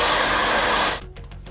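Hair dryer blowing hot air onto the adhesive of a Jeep WJ headlight cover, a loud steady rushing whir that cuts off abruptly after about a second, leaving quiet handling noise.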